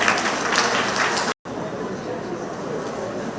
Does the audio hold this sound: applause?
yes